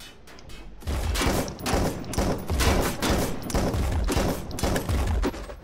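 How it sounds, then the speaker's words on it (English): Airstrike pounding a player's own base in the War Tycoon game, with A-10 Warthog planes involved: a loud, sustained barrage of repeated blasts and rapid gunfire-like bursts rolling on for several seconds. "Airstrike in my own base."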